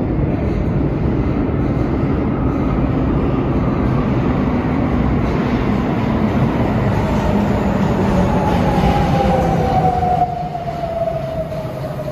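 A Sapporo municipal subway train pulling into a station, a loud continuous rumbling roar with a rising and falling whine as it slows, heard close on the platform.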